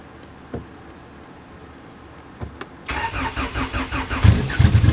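A 700hp Honda Civic EK engine cranks for a couple of seconds after a few quiet clicks, grinding rhythmically and growing louder as it tries to catch on 93 octane fuel.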